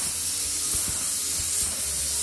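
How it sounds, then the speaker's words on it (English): A dry fog atomizer cart sprays a fine mist of sanitizing fog, a steady, loud, continuous hiss from start to finish with no talking. "Simply squeeze the trigger and you have a nice dry fog mist."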